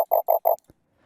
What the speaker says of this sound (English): It's this clap right here.